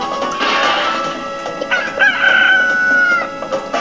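A chicken crows and clucks in the video game Billy Hatcher and the Giant Egg, a loud, close cock-a-doodle call followed by shorter clucks over busy game music.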